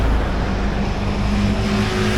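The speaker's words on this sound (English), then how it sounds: "These scooters make a horrible noise." Scooters passing on a city street in coastal Tuscany, a loud, steady engine drone with a low rumble and a faint tonal whine rising through it, heard close with no talking.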